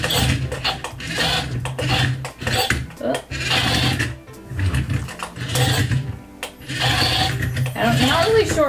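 Super Wings remote-control Donnie toy whirs with a buzzing motor in uneven bursts across the clip, close by and mixed with a person talking.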